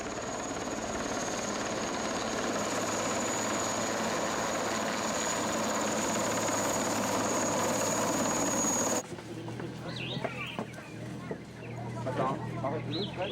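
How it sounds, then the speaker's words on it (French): A Puma helicopter's steady rotor and engine roar fills the first nine seconds, loud and continuous, then cuts to quieter outdoor sound with faint voices, in Libreville, Gabon. "l'hélicoptère Puma de la garde républicaine gabonaise quitte sa base de Libreville"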